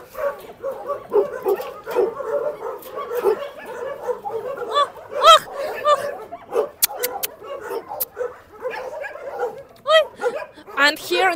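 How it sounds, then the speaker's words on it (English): Dogs in a dog shelter bark, yip and whimper in scattered bursts nearby, mixed with steady human talking throughout. "And here in cage is sleeping some dogs."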